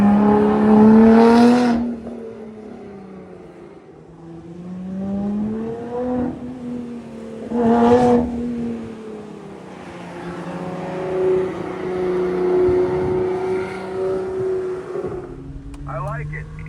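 A 2014 Ford Mustang V6 on track laps at Lime Rock Park, engine rising and falling through gears at full throttle, with a sharp high whine between shifts and a nearby voice talking over it.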